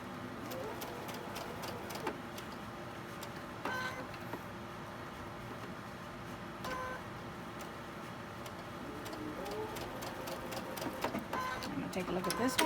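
A home sewing machine stitching quarter-inch seams on Halloween quilt pieces, steady close mechanical whirring in runs with brief pauses, under a persistent background of cooing pigeons.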